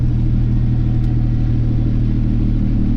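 A Peterbilt 359 truck's engine holds a steady, close, low diesel rumble under light throttle, with no clear rise in pitch and no voices.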